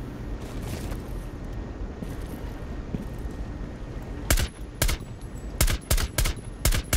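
Gunfire in Rainbow Six Siege during a yacht team deathmatch: sharp, loud shots in quick irregular bursts over a steady background rumble, arriving in the second half after a stretch of low ambience.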